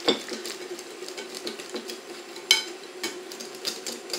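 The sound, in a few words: mixing pastry cream in a bowl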